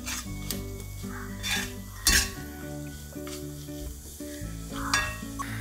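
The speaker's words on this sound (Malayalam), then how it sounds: "എന്നിവയിട്ട് ഇളക്കുക. മസാല നന്നായിട്ട് മൂക്കണം." Garam masala stirred and fried in oil for a Kottayam-style buffalo roast, a steady close sizzle with spoon scrapes and a few sharper clanks against the pan, no voices.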